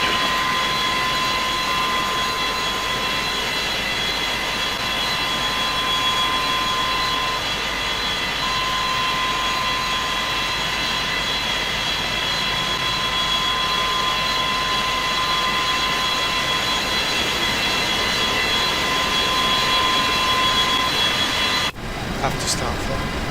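A Boeing 727-200 engine spools up during the number 2 engine start in a flight simulator, a steady loud jet whine and roar that holds for over twenty seconds, with a brief sharp break near the end.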